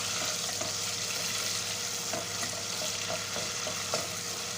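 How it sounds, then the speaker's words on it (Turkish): Butter melting in a hot pan gives a steady, close, continuous sizzle with faint crackles and a few soft stirring clicks, and no one speaks. "şöyle bir tatlı kaşığı kadar da tereyağını ekledim şöyle eritelim"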